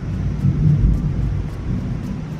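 Low rolling thunder from a bad storm, a deep rumble swelling near the middle then easing, with wind-like noise and no voices.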